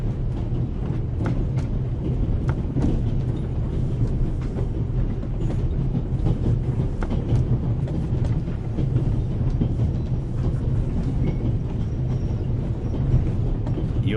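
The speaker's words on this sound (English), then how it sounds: "The noise on this train is driving me crazy." Steady train rumble and clatter inside a passenger carriage in the adventure game The Raven Remastered, a constant low rolling drone with faint rhythmic clicks, unbroken throughout with no talk.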